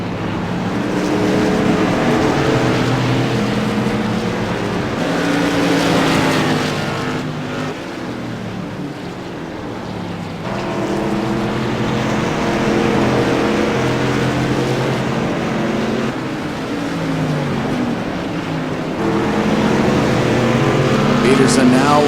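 Light modified race cars run laps at Martinsville Speedway, engines droning loud and continuous with rising and falling passes as the pack moves through the turns, with a commentator talking over the racing.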